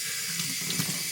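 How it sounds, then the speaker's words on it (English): Water poured by hand onto a laser-cut panel from an Xtool S1 laser cutter address box project, giving a soft, steady trickling splash with small bursts, close and fairly quiet. "let's watch and see what happens when I pour water on it"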